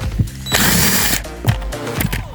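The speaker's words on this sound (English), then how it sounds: "Just going to remove all these 7mm bolts here." A power tool spins out 7mm bolts on the A/C blower motor of a Chevy Sonic, a loud half-second whirring burst followed by short ratcheting clicks and knocks nearby.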